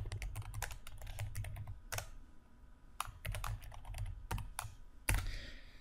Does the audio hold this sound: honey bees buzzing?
no